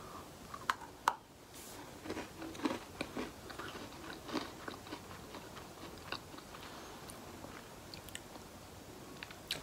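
Close, crisp crunching and chewing of Oreo cookies, with irregular bites and small crackly snaps over several seconds, quiet and alone with no speech.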